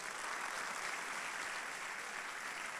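Audience applause welcoming speakers onto a stage at a metaverse conference in Morocco, a steady, dense wash of clapping from a crowd that holds evenly for a few seconds.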